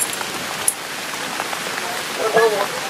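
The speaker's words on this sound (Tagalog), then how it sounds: "Ang lakas ng ulan, ang lakas." Steady, heavy rain pours down at night in Surigao City in a dense, continuous hiss, with a faint voice briefly surfacing near the end.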